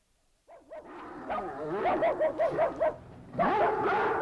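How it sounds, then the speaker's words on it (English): Dogs in a radio drama bark and yip repeatedly at close range, a run of short rhythmic woofs rising in the middle, then a whining, whimpering bark at the end. "These dogs aren't even housebroken."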